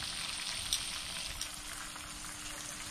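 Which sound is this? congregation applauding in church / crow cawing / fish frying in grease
fish frying in grease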